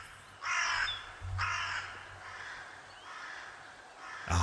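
Crows caw in a Touhou fangame, Eternal Dream of Marisa, in a few loud bursts separated by quieter stretches with soft background game ambience.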